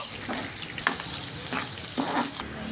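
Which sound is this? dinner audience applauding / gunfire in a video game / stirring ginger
stirring ginger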